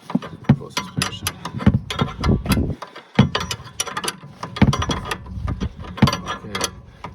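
Steady run of rapid metallic clicks and clanks as the top mount bolt of a BMW E60 suspension strut is tightened, close up and fairly loud, with brief pauses between bursts.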